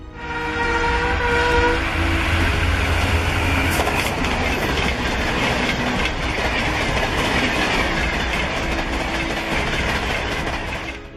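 Gatimaan Express, a high-speed passenger train, running fast on its rails as a loud steady roar with rolling wheel clatter and a brief horn, heard close throughout.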